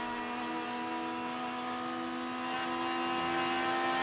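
A Porsche Cayman and a Mazda race car at Canadian Tire Motorsport Park in a 2015 IMSA race, running flat out down the straightaway, with a sustained high engine whine that holds steady and builds slightly in loudness.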